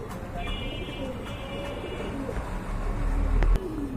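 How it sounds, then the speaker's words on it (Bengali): Large pigeons cooing in a breeding collection, a steady low murmur of overlapping coos close by, with a busy background hum throughout. "অনেক বড় কবুতর, অনেক বড়।"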